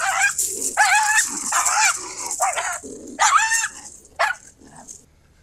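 A nervous miniature schnauzer barks loudly and close up in a rapid string of sharp, high yips and barks with short pauses, trailing off near the end.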